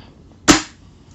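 A single sharp shot from a Tokyo Marui VSR-10 airsoft sniper rifle firing at about 302 fps, a brief loud crack with a short decay, against a quiet background.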